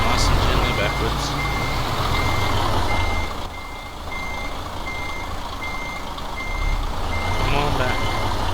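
A truck in Euro Truck Simulator 2 backs up with an evenly spaced series of high reversing beeps over a steady engine rumble, while a voice talks over part of it.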